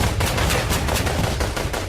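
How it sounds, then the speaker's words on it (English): Fourth of July fireworks explode in a dense, continuous barrage of loud cracks and booms with no pause, alone and without any talking. "Each one of those pretty but loud fireworks has a megaton warhead bolted to it"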